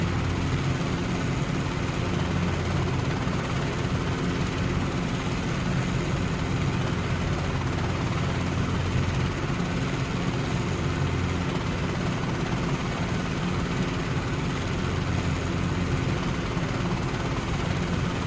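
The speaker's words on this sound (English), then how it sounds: "the sounds in this helicopter, it sounds exactly like the real thing" Simulated Robinson R22 helicopter engine in the CowanSim flight simulator, a steady, loud, unbroken drone of engine and rotor hum that holds constant throughout with no talking over it.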